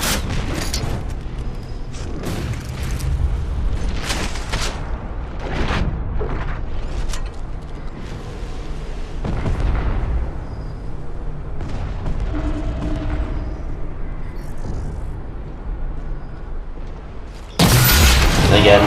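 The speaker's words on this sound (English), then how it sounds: "Somehow Sun survives the rocket." Rocket launcher blasts and gunfire ring out in a Halo 4 online match, with repeated booming explosions and shots in a busy mix under a player's commentary, ending in a sudden loud burst.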